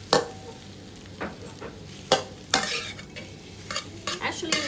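Sausage fried rice is stirred in a hot pan, with several sharp scrapes and clatters of a spatula over a low, steady sizzle, close by.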